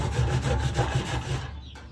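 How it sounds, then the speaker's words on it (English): Steel wool with deoxidizer scrubs rust from an aluminum diamond plate panel in quick, steady back-and-forth rasping strokes, close and fairly loud, fading out near the end. "I'm just using a little bit of steel wool and that deoxidizer"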